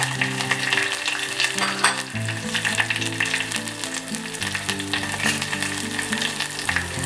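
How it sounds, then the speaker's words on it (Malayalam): Green chilies and curry leaves fry in a pan for Kerala mango pachadi, giving a steady, close sizzle that runs through the clip, with a tonal musical background underneath. "പച്ചമുളക് അല്പം വഴറ്റിയെടുക്കുക."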